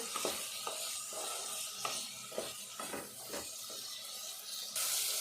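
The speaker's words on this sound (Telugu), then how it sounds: "అడగంటుకోకుండా కలుపుకోవాలి కొద్దిసేపు మంచిగా వేగేటట్టు" Moong dal and green chilies fry in a pan with a steady broadband sizzle, broken by repeated scraping stir strokes of a spatula at an irregular rhythm, close and moderately loud, with no talking.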